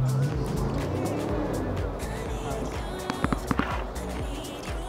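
Car with a turbo cruising along a beach road, engine and road noise rumbling continuously, with a few sharp chirps and clicks near the middle; a voice is faintly present underneath.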